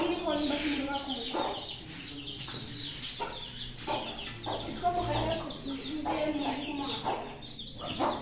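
Chickens cluck and chatter in a home bird setup with a brooder, with steady overlapping calls near the microphone while voices talk over them.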